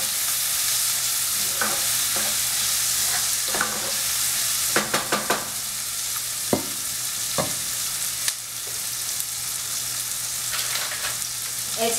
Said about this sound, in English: Just give that a quick stir.